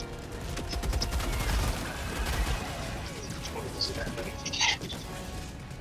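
Gunfire rattles in the Helldivers 2 video game during a bug tunnel breach, dense bursts blending with game noise and bird-like chirps, while players talk over it.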